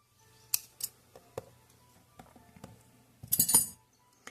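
Scissors snip thread while a Mamãe Noel fridge magnet is crafted, a handful of crisp isolated cuts and small metallic clicks, then a brighter burst of blade chinks near the end, quiet surroundings and no talking.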